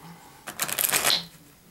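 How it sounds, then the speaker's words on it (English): Riffle shuffle of a deck of playing cards, a quick burst of rapid fluttering card snaps lasting under a second, close and clear with no talk. "Give the cards a little riffle shuffle if you like."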